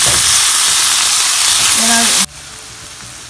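Onions and tomato for egg biryani fry in a pan with a loud, close, bright sizzle that stops abruptly partway through, leaving only a quiet background murmur.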